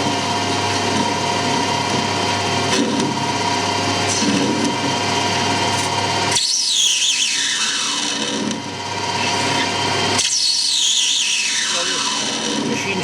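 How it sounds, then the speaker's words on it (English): A lathe facing off the end of aluminium bronze stock gives a steady motor drone with a high ringing squeal that starts and fades in two sweeping cuts, close and loud. "Found a little bit of aluminium bronze here to make a spacer out of. Just square the end up."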